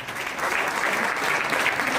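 A crowd applauds steadily and fairly loudly, a dense wash of clapping hands lasting a couple of seconds with no voices.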